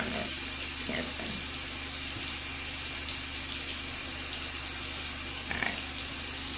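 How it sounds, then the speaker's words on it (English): Hot water runs steadily from a tap, a continuous close splashing hiss with no breaks and a few louder spatters as something moves under the stream. "I'm still using hot water, just so y'all know."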